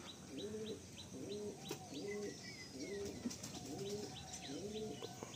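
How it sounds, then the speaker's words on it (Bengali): A Face Beauty pigeon in a Kolkata loft coos in about six soft, evenly spaced rolling phrases, with faint chirps of other birds scattered in the background. "এটা হলো ফেস বিউটি পায়রাটা"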